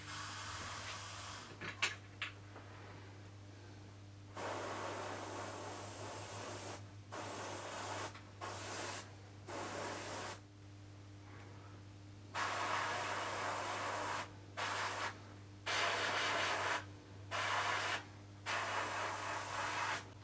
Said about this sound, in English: put a mixture of them together to give just a final overspray so it is not too garish